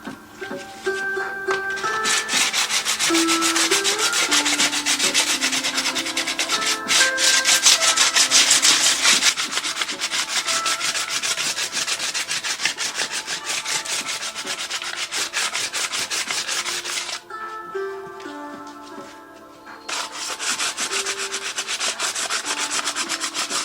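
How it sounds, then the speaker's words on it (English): Sanding a handmade wooden witchcraft staff smooth by hand, with long steady rubbing strokes that carry on nearly unbroken, close and fairly loud, with one brief pause near the end and no speech. "And now I'm going to sand it smooth and maybe work a little bit of decoration into it."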